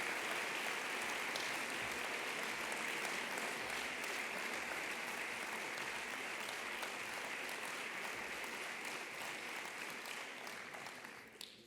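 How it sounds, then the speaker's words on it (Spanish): Long, steady applause from an audience at a sports awards ceremony honouring athletes, a continuous dense patter of many hands at moderate distance that holds evenly for about ten seconds before trailing off, with no talking. "Un aplauso para ellos"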